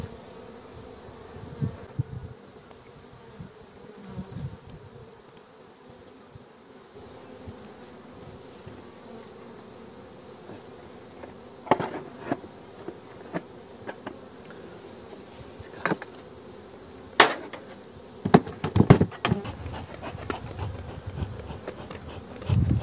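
Honeybees drone steadily around an open beehive during a spring inspection, a continuous close buzz broken by scattered clicks and knocks of handling that grow busier toward the end.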